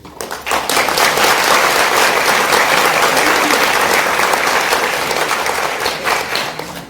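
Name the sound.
audience applause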